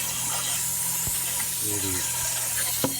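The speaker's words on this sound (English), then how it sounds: "I'm going to run some water" Water runs through the ports of a cascade filter on a tilapia aquarium in a steady, continuous hiss, with a couple of faint knocks underneath.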